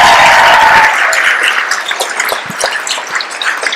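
Audience at a memorial show cheering and applauding, a loud burst of whoops and clapping that thins into scattered claps and dies down.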